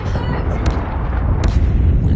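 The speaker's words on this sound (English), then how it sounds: "Hostile predator missile inbound." A predator missile blast in Call of Duty Mobile, heard as a loud, close explosive rumble with a couple of sharp bursts, with a game voice speaking over it.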